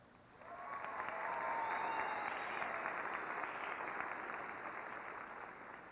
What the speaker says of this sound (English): they should be warmed by the tremendous round of applause they're receiving from this crowd at the Kitchener Auditorium